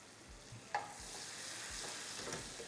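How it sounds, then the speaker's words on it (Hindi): Dried red chillies, black cardamom and cumin sizzle in hot butter, a soft, even frying hiss with a few small stirring knocks, heard quietly and without talk. "इसके अंदर जी हम छोकेंगे सूखी हुई लाल मिर्च, 2 मोटी इलायची और थोड़ा सा जीरा।"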